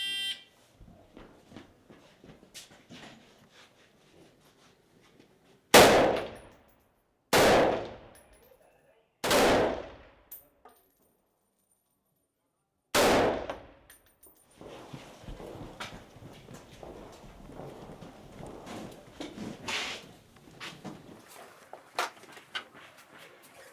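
Four loud, sharp gunshots from an AK-4 automatic rifle ring out at a shooting competition, spaced a few seconds apart with brief echoing decay, followed by a busy background of scattered clatter and distant noise.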